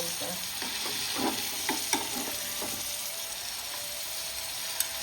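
Chicken tandoori fries in a pan with a steady, soft sizzle. Several scraping strokes of stirring come early on, then the frying continues alone.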